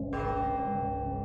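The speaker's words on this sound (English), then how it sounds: "Yet the bell continued to ring." A church bell tolls, ringing out with a bright metallic strike and a long sustained hum that lingers and slowly fades over a churchyard in a ghost story.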